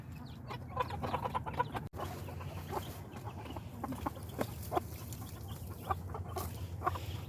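Roosters and hens in a backyard flock, kept alongside a drake, cluck continuously at close range, with scattered sharper calls over a busy low background.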